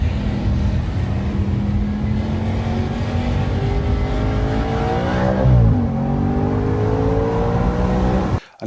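A 2015 Audi RS5 B8.5 with a 4.2L V8 accelerates hard, its engine note climbing steadily with a loud, continuous roar, dipping briefly at a gear change before building again and then cutting off.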